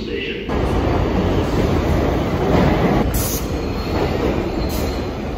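A New York City subway Uptown Local 1 train pulling into a station, loud rumbling cars and clattering wheels with high metallic squeals of wheels on rail, close and continuous.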